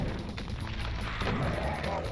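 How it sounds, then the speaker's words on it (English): Rocket launcher shots in Doom 2, a dense rumbling blast of firing and explosions that fills the whole short stretch, loud and continuous with little break. "you can actually fire some rockets to deal some damage"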